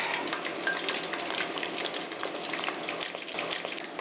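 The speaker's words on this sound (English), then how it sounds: "I will continue frying the rest of the chicken" Chicken pieces sizzle and crackle steadily in hot oil, a dense continuous frying hiss close by, with no voices.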